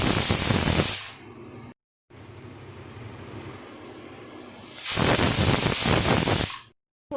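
A pressure cooker boiling chana dal lets out loud bursts of steam hiss, one long blast, then a quieter stretch of simmering, then another strong hiss before cutting off.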